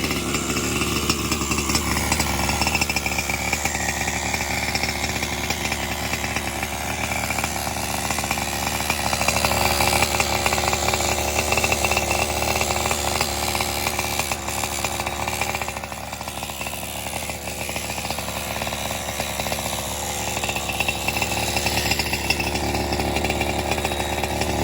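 A new Brovan 45cc ReedCase two-stroke engine being broken in runs steadily up close, a loud buzzing drone with slight rises and dips in pitch throughout, no voices.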